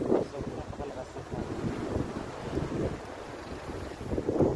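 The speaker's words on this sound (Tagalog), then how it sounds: "napakalakas ng hangin" Strong wind buffeting the microphone at Binurong Point, a seaside headland in Baras, Catanduanes, a steady loud roar with gusty surges throughout and a voice faintly under it.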